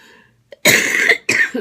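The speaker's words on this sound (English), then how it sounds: "That cough does not want to go away." Two harsh, close coughs, one longer and one short, after a brief quiet pause.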